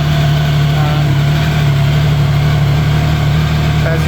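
A Triumph Sprint ST 1050 motorcycle engine runs at idle close by, a loud, steady low rumble with an even throb throughout.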